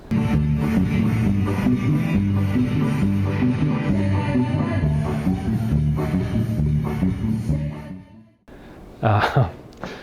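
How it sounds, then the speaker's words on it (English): A lively mariachi band at a party next door, with horns and strummed guitars, plays loudly and continuously, then cuts off abruptly near the end, followed by a brief noisy rustle. "there's a mariachi band giving it everything they got"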